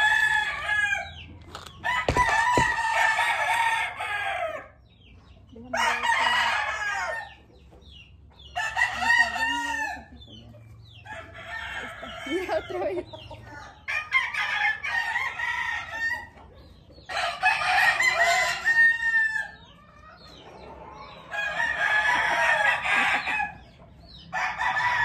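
A fighting rooster crows again and again, roughly seven long, loud calls separated by short pauses, with occasional clucking in between.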